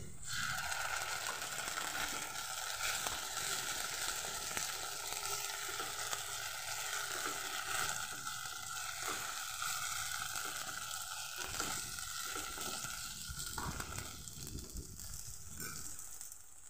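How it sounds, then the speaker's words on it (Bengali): Ginger-garlic paste sizzling in a pan with already fried onions for a vendi (okra) masala, a steady dense frying hiss throughout with faint clicks of stirring, close and unbroken, no voices. "দিয়ে দেব আদা রসুনের পেস্ট"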